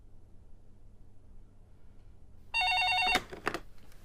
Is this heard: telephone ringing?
yes